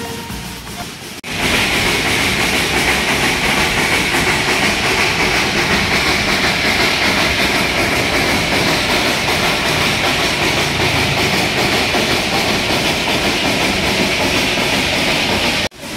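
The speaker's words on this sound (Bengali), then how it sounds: "দার্জিলিং থেকে ঘুম স্টেশন যাওয়ার পথে আমাদের টয় ট্রেন এখন প্রবেশ করছে বাতাসিয়ার লুপের মধ্যে দিয়ে।" The Darjeeling toy train runs on the Darjeeling–Ghum line as it enters the Batasia Loop, a loud, steady rumble and clatter of wheels on rails that continues without a break.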